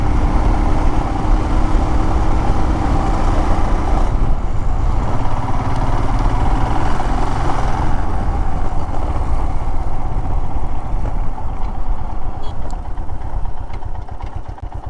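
A motorcycle engine runs steadily and continuously on Majuli river island in Assam, a close, loud, even drone with no speech over it.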